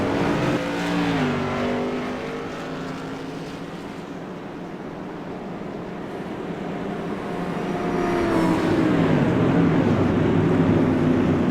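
Tour modified race cars at USA International Speedway accelerate on a green-flag restart, their engines rising from a distant drone into a loud, sustained roar as the pack builds speed.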